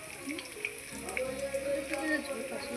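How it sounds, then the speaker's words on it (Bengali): Fish-oil pakoras deep fry in hot oil at medium to low heat, making a soft continuous crackle and bubbling under a faint tonal hum, with scattered small pops. "এদিকে আমার পকোড়া লাল লাল করে ভাজা হচ্ছে,"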